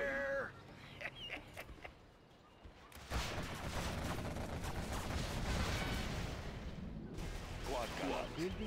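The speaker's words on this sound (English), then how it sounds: "The bomb's bursting in air." Bombs exploding in the video game Command & Conquer, a loud sustained rumble of blasts and gunfire starting partway through and rolling on for several seconds, with a short voice line in front of it.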